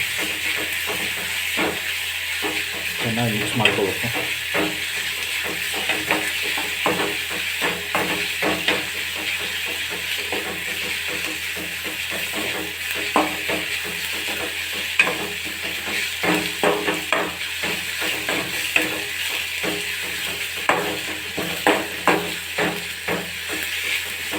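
Dal sambar with drumstick leaves being stirred in a hot pan, a steady sizzle and hiss under repeated scraping and stirring strokes, fairly close and continuous.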